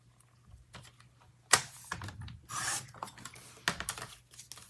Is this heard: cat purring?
no